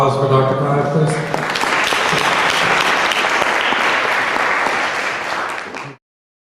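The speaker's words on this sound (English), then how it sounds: "one more round of applause for Dr. Clive, please" Audience applause for Dr. Clive: a dense, sustained burst of clapping from a crowd, rising after a spoken moment at the start and continuing loudly before cutting off abruptly.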